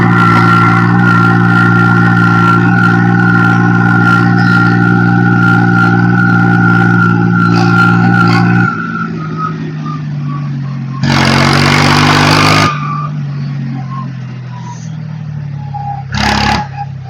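The engine of a Force OX 25 Orchard mini tractor runs loud and close with a steady droning idle, and its pitch shifts partway through. Someone talks over it and there are brief bursts of louder noise.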